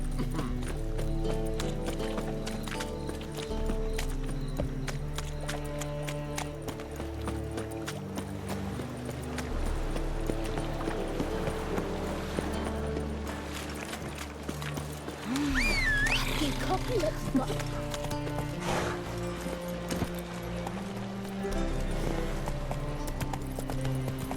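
Geralt's horse Roach gallops through The Witcher 3, rhythmic hoof clip-clop running under background music and game chatter, with a neigh and other voices partway through.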